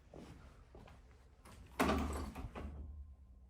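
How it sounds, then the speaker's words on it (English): A few light knocks, then a sudden loud clattering thud of a phone dropping onto a hard surface, followed by a brief rattle and fading hum. "I think that was the phone falling or something,"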